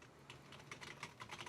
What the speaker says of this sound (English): keyboard works.